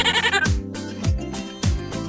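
A goat bleats loudly and close, several wavering calls in quick succession, each sliding down in pitch, with no other sounds.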